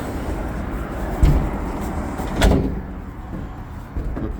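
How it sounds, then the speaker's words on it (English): An out-of-service hydraulic elevator door slides and shuts in a neglected building, with a rumbling glide, a thud near the middle and a sharper closing bang, heard close against low background noise. "Okay, that door is shut."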